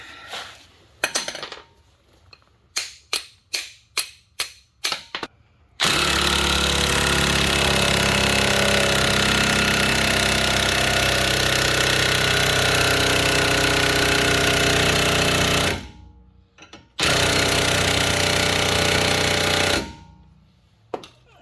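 A pneumatic impact wrench on a 2002 Dodge Ram 2500 wheel hub fires a few short bursts, then hammers continuously for about ten seconds, stops briefly, and rattles again loudly.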